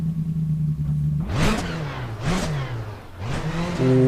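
A car engine in the racing game Assetto Corsa idles, then revs up sharply three times, each climb falling back to a steady idle, loud and alone with no talking.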